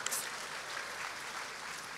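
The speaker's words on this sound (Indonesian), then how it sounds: "Tepuk tangan dong." A church congregation claps together during a sermon, a steady, dense wash of applause that holds evenly from start to finish at a moderate distance.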